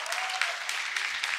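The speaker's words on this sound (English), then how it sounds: "Give them a round of applause." Audience at a marriage conference bursting into a brief, dense round of applause and cheering, steady broadband clapping throughout with a faint whoop over it.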